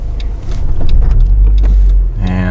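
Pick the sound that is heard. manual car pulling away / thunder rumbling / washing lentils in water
manual car pulling away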